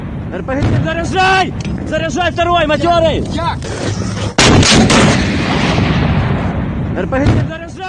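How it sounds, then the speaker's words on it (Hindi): Automatic weapon fire in Ukraine battle footage cracks out in repeated sharp bursts, loud and close, with a heavy blast midway, under continuous voices talking. "टैंक और रॉकेट लॉन्चर्स के अलावा ऑटोमेटिक वेपन से गोलीबारी हुई"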